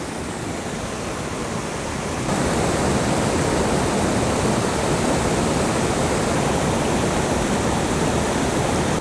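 A loud, constant roar of falling water at Aysgarth Falls in the Yorkshire Dales fills the scene, growing heavier after a couple of seconds and continuing without a break.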